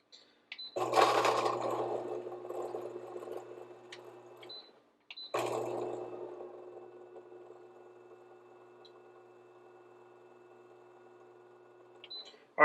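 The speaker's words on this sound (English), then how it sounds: "I clicked the button again and I heard some more beans grinding shortly after that" A Fellow Ode coffee grinder grinds beans in two bursts, a loud whirring grind that trails off over a few seconds, then a second, longer grind fading out, with small clicks and beeps at the start and end.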